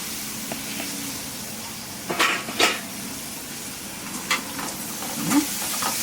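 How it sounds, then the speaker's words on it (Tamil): Bitter gourd sautés in oil with chili powder, a continuous soft frying hiss broken by a few sharper stirring scrapes, close by and with no one speaking. "இந்த எண்ணெயிலையும் மிளகாலையும் நல்லா வந்து இதை வந்து வதக்கணும்"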